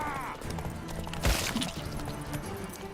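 A horse's hooves clip-clop during riding and combat in The Witcher 3: Wild Hunt, a few faint hoofbeats under game sounds, a sharp impact and a voice.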